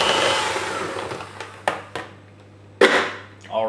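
An electric mixer whirs through cupcake batter, a steady motor hum that fades, then sharp clatters and knocks of the beaters against the bowl break in, with a brief whirring burst at the end.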